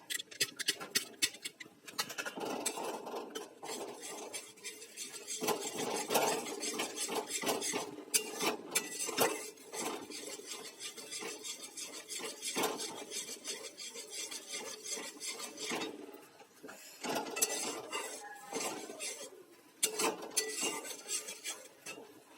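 A spoon stirs and scrapes through chocolate cake batter thinned with milk in a bowl, with irregular clinking and scraping strokes close by that continue without a break.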